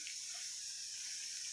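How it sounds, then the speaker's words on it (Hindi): Water trickles little by little into onion pakora batter in a bowl, making a soft, steady hiss that stays close and even throughout with no talk. "इसको पानी ना एक ही बार आपको ये कटोरी नहीं डाल देना है, इसको आराम से थोड़ा थोड़ा करके"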